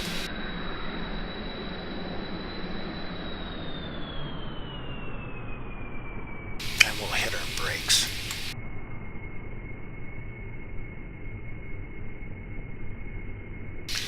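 Engine drone at full throttle in a video game: a steady roar with a whine that glides down in pitch and then holds level, interrupted midway by a short burst of rattling noise, with no talking.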